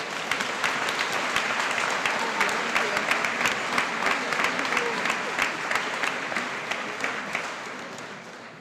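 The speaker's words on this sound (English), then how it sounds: "let's give these students a round of applause." An audience at a high school awards night applauds steadily, many hands clapping in a dense, even roar that holds for several seconds before starting to thin.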